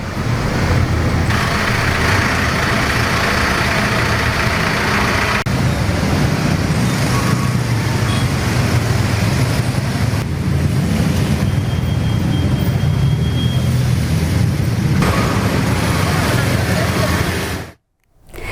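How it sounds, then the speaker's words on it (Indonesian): Busy holiday traffic on the Jakarta-Cikampek toll road near Karawang, West Java, makes a continuous loud roar of cars, trucks and buses passing, steady for a long stretch before cutting off abruptly. "arus lalu lintas di ruas tol Jakarta Cikampek Karawang dan tol Cipularang Purwakarta Jawa Barat terpantau ramai"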